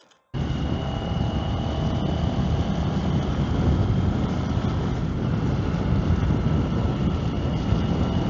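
A Royal Enfield Interceptor 650 motorcycle fitted with a vintage rally kit is ridden, its engine drone blended with heavy, steady wind rush against the microphone after a brief quiet start.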